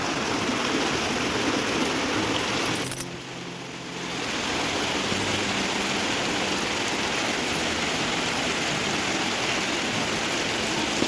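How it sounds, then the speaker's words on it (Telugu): Heavy monsoon rain pours steadily with rushing water from an overflowing drain beside houses, a dense broadband roar that dips briefly a few seconds in before resuming at full strength. "అంతగానం వర్షాలు పడుతున్నాయి"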